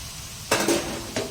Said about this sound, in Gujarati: અને આપણે તેને હલકા હાથે મિક્સ કરવાનું છે આ રીતે ધીમે ધીમે હળવા હાથે મિક્સ કરી દઈશું